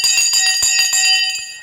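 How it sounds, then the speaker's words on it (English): The stock market opening bell rings loudly in rapid repeated strikes, a bright sustained metallic clang that keeps going through the whole stretch with no talk over it. "I missed the flipping bell"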